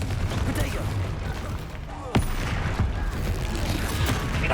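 In Hogwarts Legacy, a Confringo spell blasts amid rumbling combat noise, with one sharp impact burst partway through. A voice talks over the steady roar of battle.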